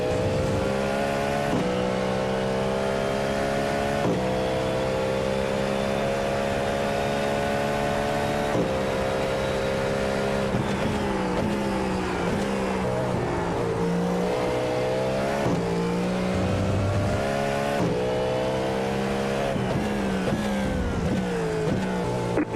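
Several LM prototype race cars roar through an iRacing sim race, engines revving hard with stacked harmonic whines rising and dropping through gear shifts, a steady loud drone across the whole stretch with no talk.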